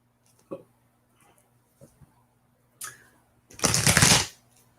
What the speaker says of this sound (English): Let me just get these nice and shuffled up for you.